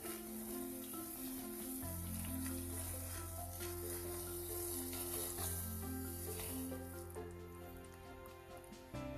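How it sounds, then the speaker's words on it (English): Rice rava stirred into a pan of cooking liquid for upma, a faint continuous sizzle and bubbling with light stirring scrapes, low and steady under a background hum, no voices. "Now we'll start adding slowly rice rava into this and mix it properly."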